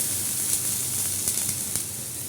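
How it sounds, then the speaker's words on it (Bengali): Water poured into a hot kadai sizzles in a steady close hiss, with a few faint crackles and no talking. "এই কড়াইতে একটু জল দিয়ে দিলাম"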